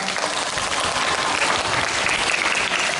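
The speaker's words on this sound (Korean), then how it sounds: "뜨거운 박수 부탁드립니다" Warm, dense applause from an audience at a youth talk on AI diplomacy, steady and loud across the whole moment with no voices standing out.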